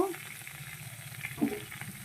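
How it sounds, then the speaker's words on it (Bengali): Vegetables with turmeric and salt sizzle in a pan for a brief moment, a steady close frying hiss with a faint bit of stirring. "এইগুলো এবার ভালো করে একসঙ্গে ভেজে নেব"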